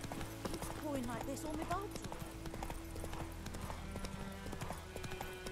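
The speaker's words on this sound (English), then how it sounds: "Come on, Roach." A horse gallops in the video game Witcher 3 Wild Hunt, its hooves a steady, rhythmic clip-clop close up, with a brief whinny, under game music and a person talking.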